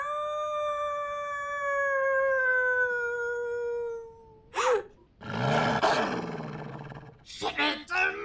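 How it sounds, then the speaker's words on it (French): A dog in the Fortnite video game howls in a long, sustained, falling tone, then breaks into rough growls and snarls, with short bursts of vocal noise near the end. "vilain chien"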